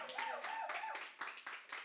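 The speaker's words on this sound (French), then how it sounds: "Applaudissons pour Jésus-Christ." A church congregation at a Sunday service in Paris claps, the individual claps sparse and distinct under a sung or held voice.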